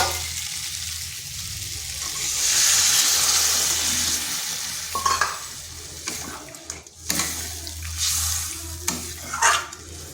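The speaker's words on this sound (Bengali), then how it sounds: "এরপর এখানে জল দিয়ে দেবো।" Water poured into a hot pan of frying pumpkin and egg, a rushing hiss over the sizzle, followed by stirring scrapes and clinks of a utensil against the pan.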